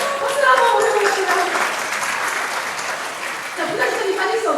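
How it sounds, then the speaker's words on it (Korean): A church congregation at a children's department intergenerational worship service applauds an elder, with dense clapping that fades and then swells again. A voice speaks over the clapping. "박수를 한번 모셔보겠습니다."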